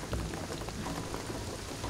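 Steady, dense rainfall in the video game Shadow of the Tomb Raider hisses continuously with a low rumble underneath, no voices present.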